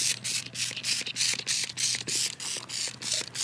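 A handheld spray bottle of ant solution is pumped repeatedly in a garden of succulents, each trigger pull giving a short hissing burst in a steady rhythm, close and clear with no talking.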